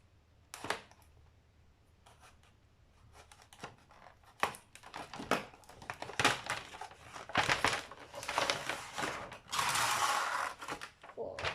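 Crinkling, crackling plastic rustles in irregular bursts, growing louder and busier toward the end, close by with no talking.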